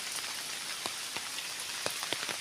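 Steady rain patters on a surface in a rural Thai village early in the morning, a continuous soft hiss broken by a few sharper nearby drips, with no voices.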